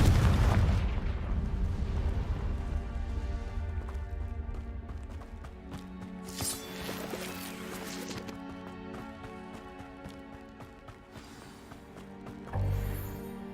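Confringo blasting spell in the video game Hogwarts Legacy, a loud burst at the start followed by fainter popping and clattering impacts and a second blast near the end, layered over game music and effects.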